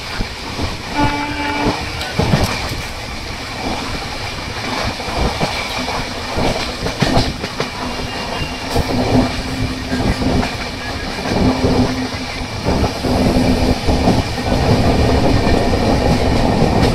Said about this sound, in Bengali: ট্রেন তার দুরন্ত গতিতে এগিয়ে চলেছে বিধাননগর স্টেশনকে স্কিপ করে।